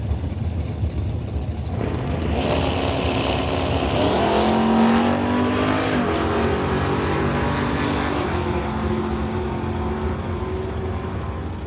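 A drag racing car makes a run at Mission Raceway, its engine roaring loud and steady down the strip as it rises in pitch through the gears. The roar holds for most of the run and then fades slightly toward the end.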